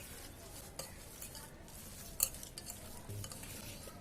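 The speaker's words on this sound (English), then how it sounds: "And little salt. Mix it well for some time." Mutton seekh kabab mince with salt is mixed by hand in a bowl, giving a faint, steady squishing and shuffling with a small clink near the middle.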